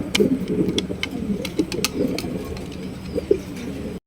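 Low, repeated cooing of a male Lahori pigeon close by, with a few sharp clicks and light background noise.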